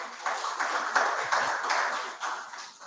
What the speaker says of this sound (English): Give the minister a round of applause, please.